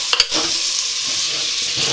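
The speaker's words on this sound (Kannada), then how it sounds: "ಇವಾಗ ನಾನು ಮಿಕ್ಸ್ ಮಾಡ್ಕೊತಾ ಇದ್ದೀನಿ." Food being stirred and mixed in a frying pan with salt, a steady sizzle throughout and a couple of sharp utensil scrapes near the start, with no talking.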